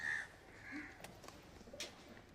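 Pigeons at a high-flying Giribaz pigeon loft coo faintly in a few soft, low calls, with scattered chirps and clicks nearby in an otherwise quiet setting.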